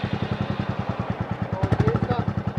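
A Royal Enfield Bullet 350 BS6 2.0 single-cylinder engine idles with a steady, evenly spaced thump, close and loud throughout, with someone speaking briefly over it near the end.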